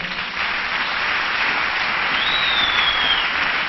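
A church congregation applauds in sustained, even clapping that fills the space throughout, with no voices standing out above it.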